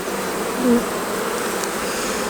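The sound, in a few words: honey bees buzzing during a hive inspection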